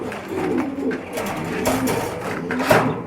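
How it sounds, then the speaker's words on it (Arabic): Pigeons coo softly and repeatedly at close range in a pigeon loft, with rustling and handling noises around them. "الحمامه تحط ايدك من فوقها كده تهدى وتسكت"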